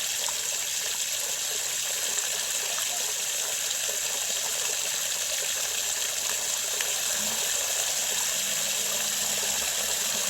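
Water rushing at full blast while back-flushing a line, a loud, steady gushing flow that continues without a break.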